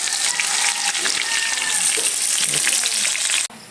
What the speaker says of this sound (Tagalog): Nagluto na gamang longganisa guys